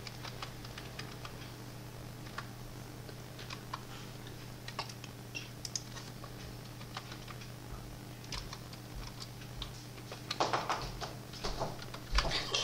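A password is typed on a computer keyboard in quick, faint clicks and taps over a steady low hum. A denser flurry of keystrokes comes near the end.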